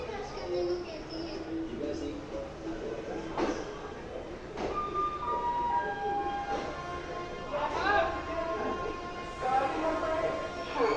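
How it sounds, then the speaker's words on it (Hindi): A Naini Janshatabdi Express pulls into Moradabad railway station amid rumbling carriages, squealing brakes and sharp metallic clanks, with station noise and voices in the background. "हमारी ट्रेन पहुंच चुकी है मुरादाबाद रेलवे स्टेशन"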